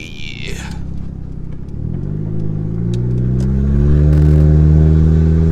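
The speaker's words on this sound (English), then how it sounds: "if you have a muffler and resonator delete, the loudest your car will be is from first and second gear" A Honda Civic with its muffler and resonator removed accelerates, its raspy exhaust drone climbing steadily in pitch and growing louder as the revs build, close and dominant.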